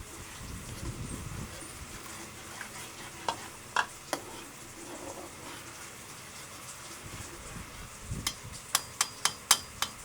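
Beaten eggs are stirred into simmering sarciado sauce, a soft bubbling simmer under occasional spoon knocks, then a quick run of sharp taps against the pot near the end.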